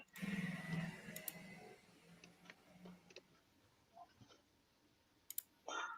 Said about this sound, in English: while he's typing it all in